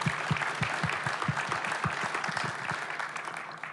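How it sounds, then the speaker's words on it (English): Audience applause at a sports innovation talk, a steady patter of clapping hands sustained throughout, fairly close and filling the room without voices. "So if everyone can just give them some applause"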